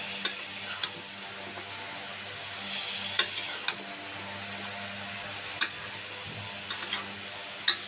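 Bitter gourd and potatoes being stir-fried for a shrimp curry, a faint steady sizzle with sharp ticks of a spatula scraping the pan at irregular intervals, no talking.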